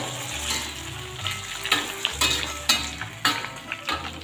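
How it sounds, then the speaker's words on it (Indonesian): Bananas fry in oil, sizzling and crackling steadily while utensils clink and scrape against a pan in short, irregular bursts. "Saya ulangi menggoreng ya."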